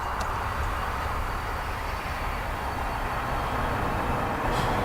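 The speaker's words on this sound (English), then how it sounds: "So this is our A330 in from far away." An Airbus A330 arriving at Dublin Airport on a light headwind makes a steady, broad, fairly loud roar that holds evenly throughout, heard from outdoors.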